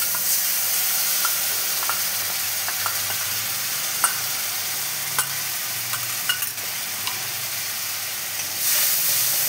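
Paste of ground ginger, cumin, green chilli and turmeric sizzles steadily in hot oil for a Bengali chitol fish curry, with a few sharp crackles and stirring clicks over a constant frying hiss.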